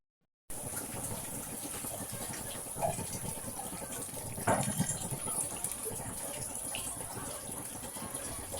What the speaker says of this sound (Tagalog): Tapos, lagyan na natin ng tubig.